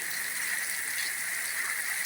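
Rain falls steadily in Jaffna, a continuous even hiss with no breaks or voices, fairly close and moderately loud.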